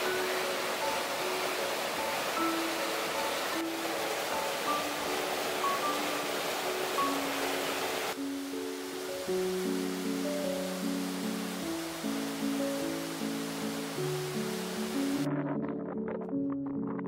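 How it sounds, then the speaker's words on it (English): Flowing water rushes steadily in the background on a mountain trek of the Haute Route Pyrenees, a constant broadband wash with no voices, cutting off abruptly near the end. "A bit of water in the back."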